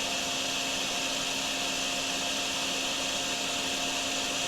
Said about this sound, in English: our sound is working for our vacuum again